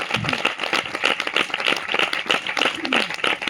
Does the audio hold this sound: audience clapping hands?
yes